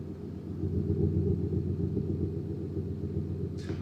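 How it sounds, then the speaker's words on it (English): A stone-cold Audi V8 diesel idles with a low, steady rumble and faint rattle from the front, quiet and even throughout. "From the front, we do still have the rattle, but it is stone cold, so listen to that."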